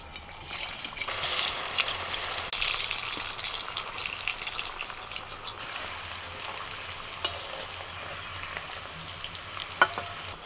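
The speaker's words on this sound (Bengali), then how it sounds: "এবার এই বেরেস্তা ভাজার তেলে আলু ভেজে নেব।" Potatoes frying in oil already used to fry onions for Hyderabadi chicken biryani, a steady crackling sizzle that stays continuous and even, with occasional stirring, no talk.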